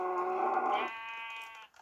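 A single sheep gives one drawn-out, wavering bleat, close and clear, lasting under two seconds with no other sounds around it.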